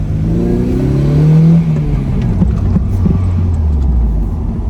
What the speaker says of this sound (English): First gear pull.